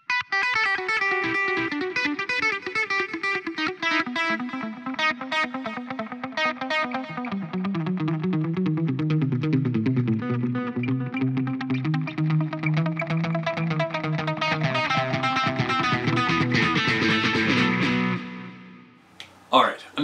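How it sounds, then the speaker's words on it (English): A Parker six-string custom electric guitar plays a run of picked notes through an echo effect, each note repeating and trailing, loud and sustained before stopping abruptly near the end. "So let's play a little bit more with this echo stuff."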